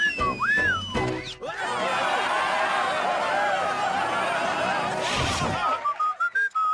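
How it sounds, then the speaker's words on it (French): Someone whistles a wavering melodic tune, with bursts of chuckling and laughter from others and a louder noisy stretch in the middle, the whistling returning in short notes at the end. "Tout le monde peut siffler."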